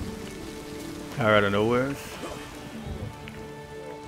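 Steady rain falls in the video game The Witcher 3 as a soft, continuous patter, while someone talks briefly over it.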